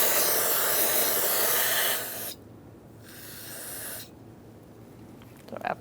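An aerosol can of brake cleaner sprays in a loud continuous hiss for about two seconds, then shorter bursts follow with pauses between them.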